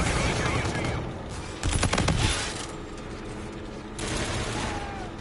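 Gunfire in Call of Duty: Infinite Warfare multiplayer, a dense burst of shots swelling midway and again near the end over steady game ambience, with a voice speaking faintly beneath.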